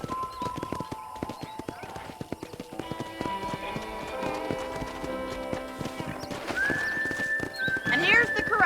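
Horse hooves clip-clopping on a ranch in the video game Red Dead Redemption, a rapid steady run of close hoofbeats with a horse whinny near the end and game sounds mixed in.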